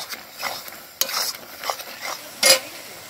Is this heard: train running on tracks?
no